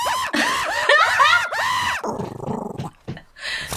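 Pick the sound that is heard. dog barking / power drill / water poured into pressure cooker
dog barking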